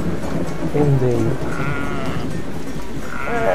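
Sheep bleat in the video game The Sheep Game, wavering cries rising over a dense, steady bed of game noise and chatter, one near the start and more toward the end.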